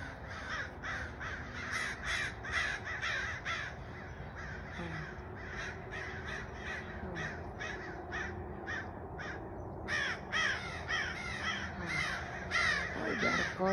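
A group of crows cawing repeatedly outdoors, harsh rhythmic calls in quick bursts from several birds, some near and some farther off, over a steady background hum.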